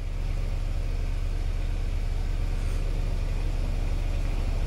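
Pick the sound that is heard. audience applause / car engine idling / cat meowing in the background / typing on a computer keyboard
car engine idling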